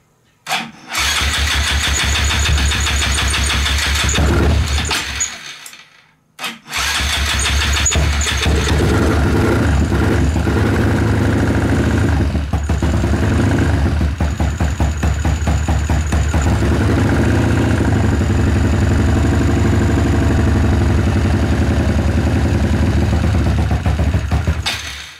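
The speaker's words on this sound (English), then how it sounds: "It's running, but I have to hold the throttle, and it doesn't want to idle." A Honda Grom motorcycle engine starts, cuts out briefly, then restarts and runs continuously up close, its uneven idle held up by throttle blips and refusing to settle.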